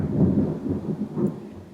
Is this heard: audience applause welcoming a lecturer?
no